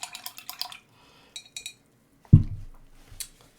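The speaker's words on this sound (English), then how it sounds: "Lovely sound of washing brushes." Paintbrushes swished and tapped in a water pot during a budget craft-kit painting session, a few brief watery clinks and splashes followed by one louder knock against the container and a trailing rinse, with no talking.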